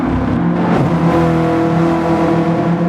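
Toyota Corolla race cars in a GT Sport race at Tsukuba, engines droning loudly and continuously as several cars rev and run close together, with a steady layered whine throughout.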